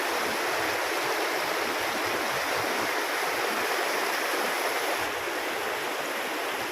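Rushing water of a waterfall beside a campsite at Doi Inthanon fills the air with an even, loud hiss that holds steady throughout with no voices.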